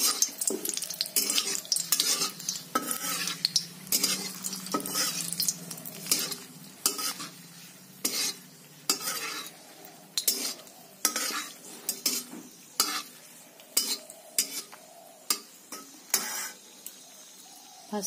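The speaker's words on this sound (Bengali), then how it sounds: "ফাঁসফোড়ন দিয়ে দিচ্ছি।" Dry chilli, bay leaf and whole spices sizzle in hot oil in a pan, a steady crackling hiss broken by repeated scraping stirs of a metal spoon, close and alone.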